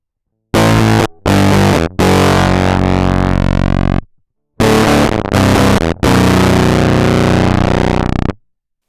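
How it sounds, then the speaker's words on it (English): Electric guitar through a broken DIY germanium Fuzz Face pedal, its transistor biased at 33K, giving harsh, fizzy distorted chords that cut off abruptly in several loud bursts separated by silence, with no talking. "I guess this is the sound of a broken Fuzz Face."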